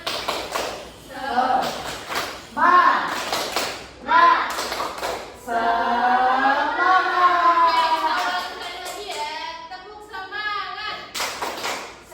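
Children in a morning classroom perform the 'tepuk semangat' clapping chant, bursts of rhythmic hand claps alternating with sung and chanted voices, a teacher's voice leading in between.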